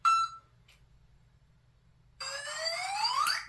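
An ARRMA Vorteks 4x2 Boost 550 Mega RC car's remote chirps a short electronic beep, then after a pause emits a rising warbling tone as the transmitter connects, clear and close.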